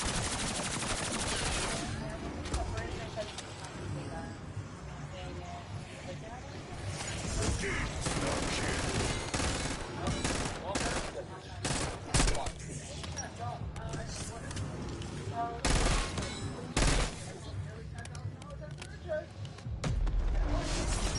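Opening salvo of gunfire in a zombies video game, with loud repeated shots and rapid bursts throughout, and a voice talking over the action.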